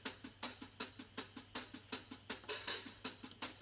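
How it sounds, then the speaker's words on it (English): Layered programmed and live hi-hats tick in a quick, steady bouncy pattern, crisp bright hits repeating evenly, fairly quiet and alone without any voice. "layering a programmed hi-hat with a live hi-hat just to give that different kind of feel and"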